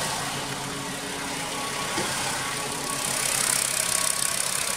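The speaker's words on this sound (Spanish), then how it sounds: "pero de entrada ya está más parejo el motor" A Volkswagen car engine idles steadily after a tune-up, a continuous even running hum that grows slightly louder and rougher toward the end, with no voices.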